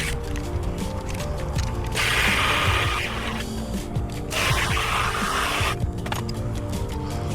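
A ratchet loosens the two 14mm brake caliper bolts on the front brakes of a 2012-2018 Nissan Altima. Two close, sustained bursts of rapid mechanical clicking stand over a low background hum.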